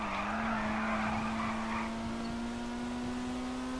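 A Dinka Sugoi car in GTA Online drifts, its tires squealing in a long sustained screech with a steady engine drone underneath, alone and moderately loud.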